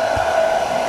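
A blower runs continuously at close range, drying out an egg incubator box, producing a loud, steady whirring airflow with a strong even tone and a faint low bump near the start.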